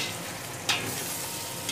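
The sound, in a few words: stirring and mixing spices in a pot for beef pulao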